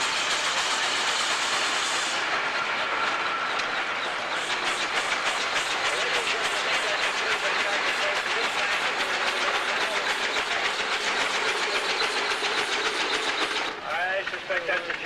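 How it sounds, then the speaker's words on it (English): A steam tractor owned by Gary Peterson of Grand Pass chuffs and hisses steadily as it rolls past in a tractor parade, a loud continuous rumble with rhythmic clatter that eases near the end. "Here's another steam tractor owned by Gary Peterson of Grand Pass."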